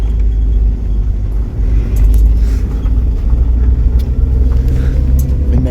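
Holden VL car engine fitted with a turbo kit and a big external screamer pipe, a loud close deep rumble of the idling engine that runs steadily throughout with no talking.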